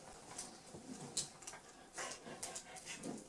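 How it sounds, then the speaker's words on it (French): An old dog panting in quick breathy bursts with occasional high whimpers and yips, close and fairly quiet, with no talking. "Quand ton chien pète un câble."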